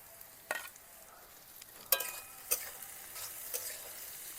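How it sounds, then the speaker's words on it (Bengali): Capsicum, carrot and green beans fry in a pan with a soft, steady sizzle, broken by four sharp utensil clanks and scrapes as the vegetables are stirred at uneven intervals. "এইবার এটাকে 3 থেকে 4 মিনিট ভাজা ভাজা করে নেব"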